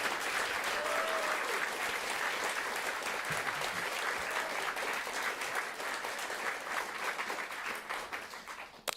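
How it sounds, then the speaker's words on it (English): An audience applauds for Katie Thornton at a live radio event, the clapping loud and sustained for several seconds before tapering off near the end. "Can we get a round of applause for Katie Thornton?"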